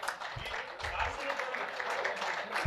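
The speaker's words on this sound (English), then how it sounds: "Please give them a massive round of applause." Applause breaks out at a cricket club golf day fundraiser, a brief burst of clapping from a gathered crowd, fairly close and steady, with some voices mixed in.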